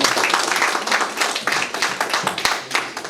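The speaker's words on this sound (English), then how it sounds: "Please give him a big round of applause." Participants at a faculty development program applaud a guest invited to the stage, a brief burst of close, dense hand clapping that stays loud throughout.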